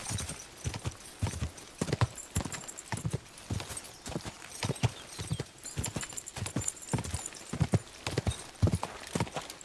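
Horse galloping in Kingdom Come: Deliverance II, rapid rhythmic hoofbeats pounding steadily and close throughout, with occasional faint whinnies and no talk.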